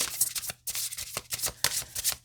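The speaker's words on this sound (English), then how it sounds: "I'll give it a few more shuffle" Playing cards are shuffled by hand during a tarot reading, a run of quick crisp riffling bursts and soft flutters repeating several times close to the listener, with no talk over them.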